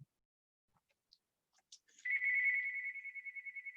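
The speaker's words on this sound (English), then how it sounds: "You're gonna have to ignore that phone for a moment and we'll get on." A telephone rings faintly in the room during a local history book launch talk, a steady electronic tone that begins after a few small clicks and then pulses in a quick regular rhythm.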